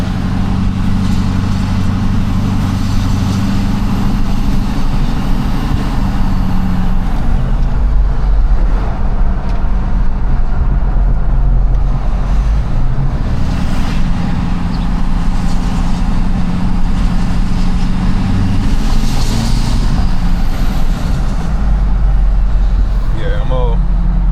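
Ford 6.4 Powerstroke diesel pickup fitted with a Turbonator VGT turbo, heard from inside the cab as a deep engine drone that rises and falls with acceleration, with a turbo whistle surging over it.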